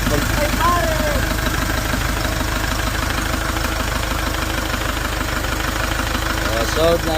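A Hyundai Porter2 with a D4CB CRDi diesel engine idles steadily and loudly up close, a smooth continuous rumble with faint knocking, running without an air cleaner on the intake manifold after a timing chain repair.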